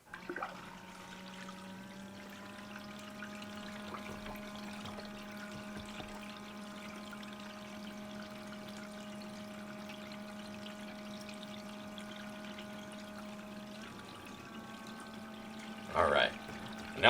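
A small pump hums steadily as water runs through a rebuilt sluice wetted for paydirt, a constant drone with a faint trickle beneath, ending in a few clunks.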